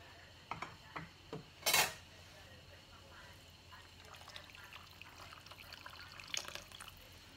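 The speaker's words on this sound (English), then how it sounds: "I'm gonna add a little chicken broth to this water" Chicken broth poured into a pot of water for Southern pinto beans in a home kitchen: a few light clinks of pot and utensil, one sharp clatter, then a faint, soft liquid splash and trickle near the end.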